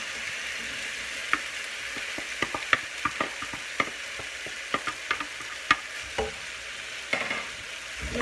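Green beans fry in a pan with a steady close sizzle, broken by frequent sharp scraping and tapping strokes of a spoon stirring through them.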